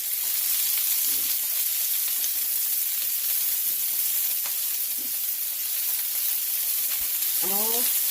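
Garlic and chopped onion sizzle loudly in a pot for Trini-style curry chicken, a continuous close hiss broken by a few scraping stirs of a spoon against the pan.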